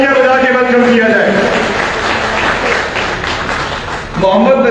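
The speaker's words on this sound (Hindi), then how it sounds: "तालियां बजा के वेलकम किया जाए।" Crowd applause welcoming a newly announced fire brigade committee member at a ceremony, a sustained wash of clapping under someone speaking, fading slightly before voices rise again.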